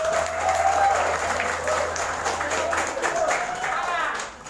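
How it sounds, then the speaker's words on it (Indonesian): A large audience at a Maulid gathering applauds for the Pondok Pesantren Al-Aziz students, loud sustained clapping from a crowd mixed with cheers and voices, tapering off toward the end. "Tepuk tangan juga untuk santri Pondok Pesantren Al-Aziz."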